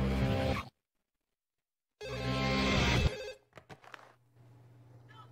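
A telephone rings in the No More Heroes video game, a loud electronic ring in two bursts separated by a silent gap, followed by brief clicks and a low hum.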